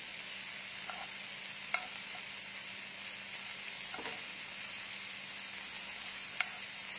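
Food fries in a pan during home cooking, a soft, steady sizzle and hiss running throughout with a few faint clicks and taps, fairly quiet and with no talking.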